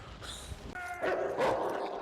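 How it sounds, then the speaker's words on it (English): A dog in an action scene from the film Gladiator gives a short burst of yelping barks and whimpers mixed with crashing, fighting noise from the movie soundtrack. "the dog's even in on the action too"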